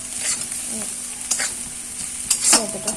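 Onion and chili fry in fish oil in a wok with a soft, continuous sizzle, broken by a few scraping stirs and faint clinks.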